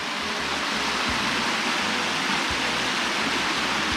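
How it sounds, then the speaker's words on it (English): Small stream of water running over loose rocks near a waterfall at Issaqueena Falls area, Walhalla, South Carolina: a steady, close, broadband rushing wash with low gurgles, continuous and unbroken throughout. "Nice little water path coming through here."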